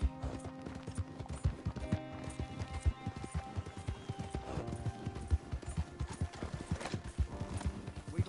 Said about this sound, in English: El caballo que se está moviendo.